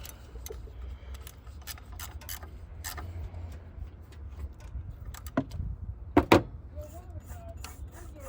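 Faint, irregular squeaks and creaks from a rusty idler pulley turning on a 2003 Mercury Grand Marquis, with a few sharper metallic clicks near the end over a low background hum.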